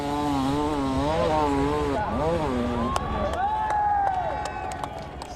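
Dirt bike engine revving hard at a hard enduro race start, rising and falling high-pitched revs over crowd noise and cheering, with a commentator talking over the engine.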